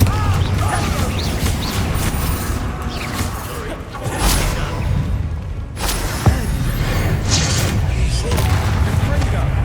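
Confringo explosive spell blasts in Hogwarts Legacy, loud broadband bursts rising over constant combat din, with the sharpest hits landing around the middle of the stretch.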